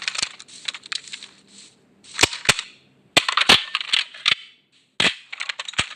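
Guns firing in a Minecraft weapons mod produce sharp, loud, close shots in irregular bursts, with single cracks and quick clusters separated by short gaps and no talking.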